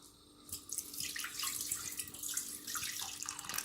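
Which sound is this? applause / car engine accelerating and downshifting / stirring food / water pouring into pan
water pouring into pan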